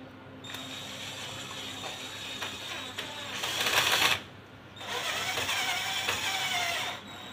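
Electric screwdriver driving screws into a board, bursts of close whirring and ratcheting clicks, with a louder run near the middle and another after a short pause.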